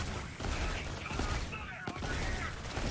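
Try-Bolt rifle fire in the shooter game Borderlands 3, a quick burst of gunshots with mechanical clatter, fairly close and dense over game ambience, with a voice talking over it.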